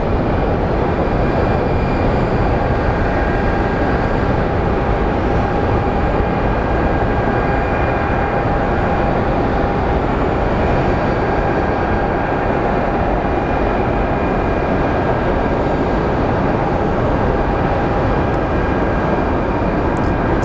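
An airliner lands at Phoenix Sky Harbor Airport, its loud, steady engine roar rushing without a break for the full stretch with no talk.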